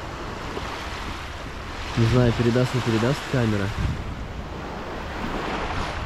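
A steady wash of sea waves on the shore at Gelendzhik, with clean water and wind noise on the microphone, continues while a voice briefly speaks in the middle.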